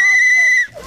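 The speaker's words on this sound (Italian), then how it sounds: "Triplice fischio" A single sustained referee-style whistle blast at an outdoor team event sounds loud and close, holding a steady shrill tone before cutting off into faint background noise.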